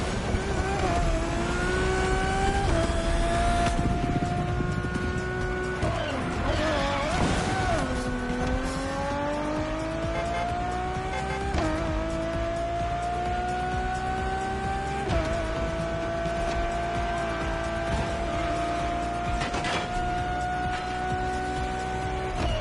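Engine of a road-legal Ferrari supercar in a video game, a loud steady whine that climbs through gear changes, with rising and dropping pitch and brief tire squeals over a continuous roar.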